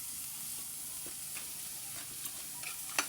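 Green chilies sauté in a pan, a steady soft sizzle with a few light stirring clicks near the end, no talking.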